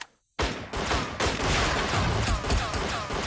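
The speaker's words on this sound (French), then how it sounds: "je vais t'utiliser en mode Free Fire pendant probablement 3 secondes, je pense, avec le flingue pour détruire le truc en bois" Rapid gunfire from the Lethal Tactics strategy game bursts in after a brief silence, firing at a wooden object in a dense, continuous volley of loud shots with no talking.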